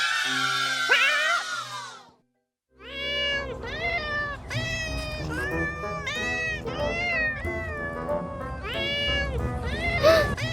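Repeated high, whiny kitten meows in a video game sound close and clear, one after another, after an earlier longer cry and a brief silence.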